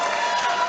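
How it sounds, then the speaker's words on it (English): At an amateur women's fight event, a crowd roars and cheers in a dense, loud, continuous wash of voices, filling the short moment without a break. "Crowd is going crazy for these two women"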